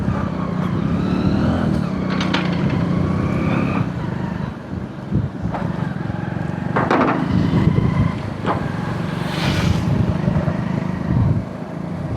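A car rolls along a street in Cartagena with a steady low engine and road rumble throughout, plus scattered clacks and knocks of nearby street activity. No talking.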